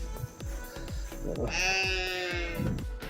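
A sheep on a farm lets out one loud, drawn-out bleat close by, with rhythmic thumps and rustling of livestock around it and a shorter second call at the end.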